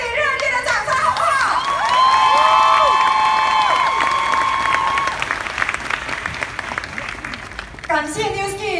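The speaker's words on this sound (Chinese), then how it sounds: "给自己一个最热烈的掌声，好不好？" A large convention audience bursts into loud applause and cheering that fills the hall. A speaker's amplified voice carries over the clapping, and the applause tails off toward the end.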